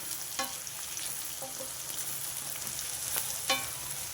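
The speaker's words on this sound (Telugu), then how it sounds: "ములక్కాయలు కూడా కొంచెం నూనెలో మగ్గించుకోవాలి" Drumstick pieces sautéing in a little oil for a drumstick egg curry, giving a steady soft sizzle with a few sharp clicks of a spoon against the pan.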